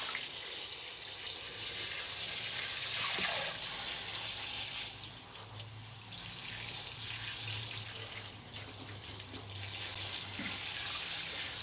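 Water sprayed over a container holding harvested baby carrots in a UK allotment, a steady hissing spray that swells and eases as the jet moves around, close and continuous.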